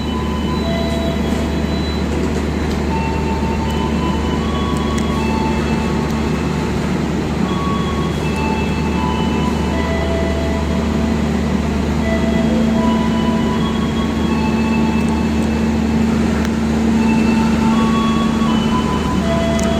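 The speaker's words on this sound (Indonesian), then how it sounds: "ini yang mau berangkat adalah kereta api Bogowonto" The Bogowonto passenger train departs a station, rumbling steadily and loudly for the whole stretch, with a low engine drone and a sustained tone that rises partway through, no voices.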